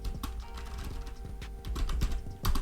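Fingers tap quickly on a computer keyboard while entering text into point-of-sale software, a close, irregular stream of light clicking keystrokes with a few louder presses near the end.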